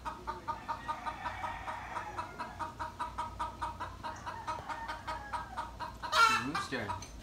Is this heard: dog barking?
no